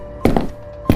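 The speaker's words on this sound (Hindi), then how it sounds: "किसी की दस्तक हुई।" Two heavy, dull thuds against a house door, close and distinct, with a short gap between them in an otherwise quiet night.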